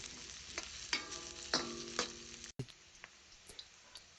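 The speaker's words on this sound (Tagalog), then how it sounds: "Isabay na natin dyan yung sibuyas. Pagkatapos nating mailagay, syempre, halo-haloin din natin." Onion tossed into a hot frying pan and stirred: a few sharp scraping strokes and knocks of a utensil ring out over a light sizzle, then one brief dropout before quieter stirring clicks continue, no voices.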